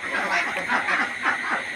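Ducks quack together in a duck shed, a dense nasal chorus of overlapping calls that continues steadily, fairly close and moderately loud.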